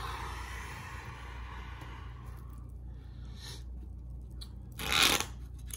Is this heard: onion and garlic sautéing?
no